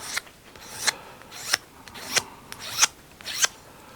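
A hand file smooths a new wooden violin bridge in six distinct rasping strokes, roughly one every two-thirds of a second. The strokes are close and crisp, with quiet pauses between them and no talking.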